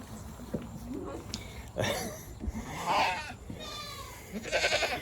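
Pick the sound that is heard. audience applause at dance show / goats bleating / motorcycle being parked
goats bleating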